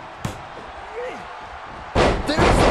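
In WWE 2K24, Brock Lesnar's superplex from the middle rope lands as a heavy slam with a sharp impact and crowd roar at the end, preceded by a small thud, with commentary over it.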